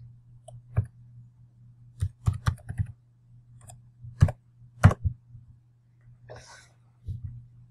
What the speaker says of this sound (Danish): Starter på Google, skriver uddannelsesguiden, klikker man på det første link